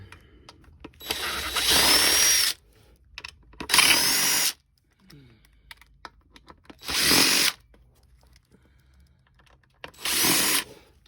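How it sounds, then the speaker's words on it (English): A power drill spins out four screws holding a Uconnect 8.4-inch Harman car radio, in four loud whirring bursts of about a second each, separated by quiet gaps with light handling clicks. "So you want to remove these 4 screws right here."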